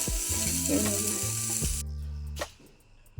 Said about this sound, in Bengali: এখন এই ছোলা ভাজাটা